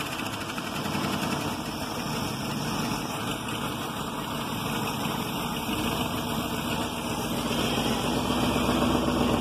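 An old camper's engine idles as it warms up, its exhaust manifolds heating. The low, steady, continuous drone stays close and even for the whole stretch, with no voices.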